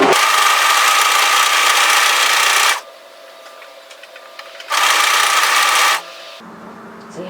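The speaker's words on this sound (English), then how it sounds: "I'm going to serge overlock tidy that edge we just sewed" A serger overlock machine trims and finishes the seam edge of a V-neck Henley sweater, running in two loud sustained bursts of close whirring with a quieter pause and soft handling between.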